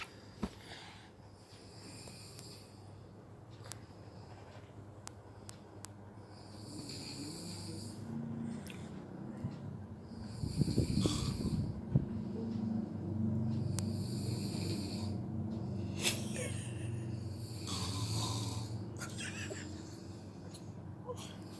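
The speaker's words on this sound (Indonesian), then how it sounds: "Ayah ngorok deh. Ayah ngorok." A man asleep in the daytime snores close by in slow, regular rhythmic breaths, fairly loud, with faint background noises between snores.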